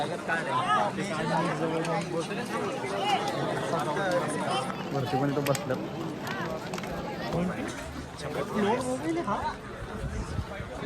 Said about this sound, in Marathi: इथं गर्दी बघा गर्दी